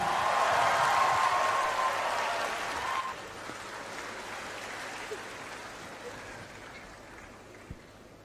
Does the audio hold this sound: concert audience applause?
yes